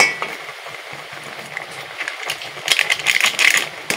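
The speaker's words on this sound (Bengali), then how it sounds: "ভালো করে ঘেঁটে নেবো।" A spoon stirs Amul milk into a coconut barfi mixture in a pan, giving soft scraping strokes that rise into louder, busier clatter toward the end, with no talking.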